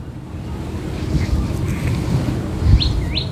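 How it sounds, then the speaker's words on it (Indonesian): Small birds chirp a few quick rising notes under a dark, overcast sky before a thunderstorm, faint and distant against steady outdoor wind and a low rumbling wash. "Nah, burung-burung sudah berkicau."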